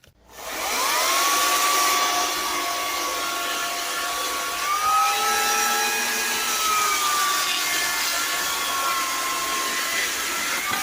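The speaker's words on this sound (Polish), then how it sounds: "Tak się właśnie szybciora piłuje." Wood being sawn quickly, heard as a loud, steady whining drone that starts abruptly and runs without pause, its pitch shifting gently as the cut goes on; no one talks.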